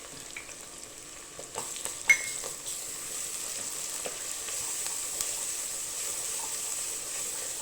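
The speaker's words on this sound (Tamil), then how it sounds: "இப்போ இஞ்சி பூண்டும் வந்து நல்லா வதங்கிடுச்சு" Ginger and garlic frying with onions in a pan give a soft, continuous sizzle with light stirring clinks and scrapes, close and fairly quiet.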